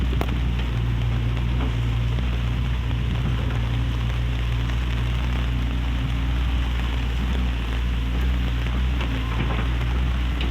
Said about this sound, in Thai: มาถึงพอดีพี่น้องฝนตก